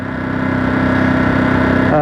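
A 2023 Ducati Monster SP fitted with a Termignoni exhaust runs steadily, a loud, close, even engine drone with a throbbing pulse that rises slightly at the end.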